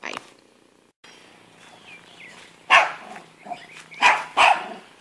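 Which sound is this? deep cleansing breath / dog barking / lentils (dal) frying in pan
dog barking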